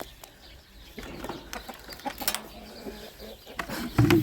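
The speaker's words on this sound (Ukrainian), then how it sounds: "Оно, диви, півень." A rooster in a backyard poultry yard clucks among other birds while they feed. Several scattered calls sit over rustling outdoor ambience, and the sound grows louder near the end.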